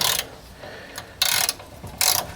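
Ratchet working on a sway bar link bolt of a Mazda 6 rear suspension, a few short bursts of rapid clicking with brief pauses between, close and fairly crisp.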